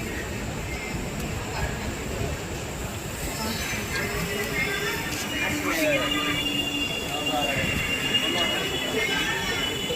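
The Puri to Sealdah Duronto train rolls through Cuttack station, heard from inside as a continuous rumble of wheels on rails with squealing and metallic screeches rising partway through, while people talk faintly.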